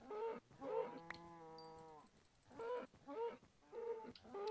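Cows in the video game Minecraft give several drawn-out moos in succession, one long and tonal, close and clear with short pauses between the calls.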